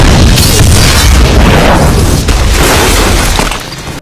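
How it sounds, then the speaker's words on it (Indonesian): Bomb explosion in the 2011 thriller film Unknown, a loud deep boom with a crashing, rumbling burst that holds for about three seconds before fading out. "Elizabeth gagal menonaktifkan bom sehingga bomnya pun meledak dan membunuhnya."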